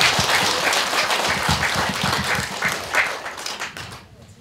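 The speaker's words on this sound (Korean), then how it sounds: "박수 한번 보내주세요." A crowd claps in a dense, sustained burst of applause that gradually thins and fades out toward the end.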